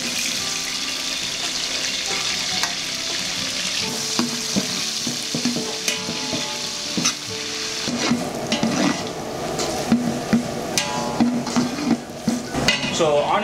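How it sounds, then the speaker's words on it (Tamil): Onions frying in hot oil for biryani, with a steady sizzle and occasional stirring scrapes, close by, with no speech and a faint running-water sound in the background. "ஆனியன் வந்து நல்லா ப்ரௌனாக வந்து வறுத்துச்சு"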